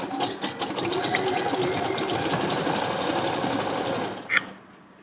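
Sewing machine running steadily and loudly through three aligned layers of blouse pieces at a half-inch seam, a dense continuous whirring clatter that cuts off abruptly near the end.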